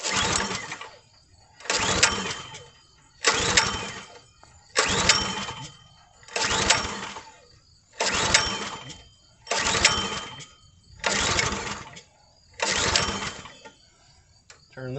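A balky log splitter engine is cranked over and over, eight evenly spaced bursts of pull-start churning with short pauses between, each attempt loud and close but never catching.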